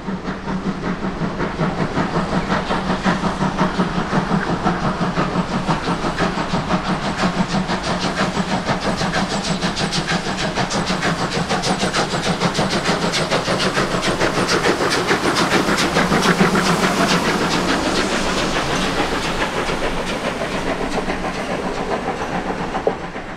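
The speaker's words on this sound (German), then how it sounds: "Der fast 400 Tonnen schwere Zug wird problemlos beschleunigt." Steam locomotive 01 1104, a heavy express engine, pulls a train of nearly 400 tonnes as it accelerates: a steady, loud roar of steam and hissing exhaust with rolling rail noise, continuous throughout with no talking.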